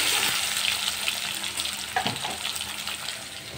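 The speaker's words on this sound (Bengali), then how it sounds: "আলুটা ওইভাবে মাছের মতো সুন্দর করে ভেজে নিব।" Potatoes frying in a pan alongside surma fish, a steady close sizzle of hot oil with small crackles and a few stirring knocks.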